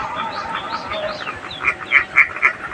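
Ducks on a village duck farm beside a pond, a cluster of nasal quacks repeating several times in quick succession, close and clear over a low outdoor background.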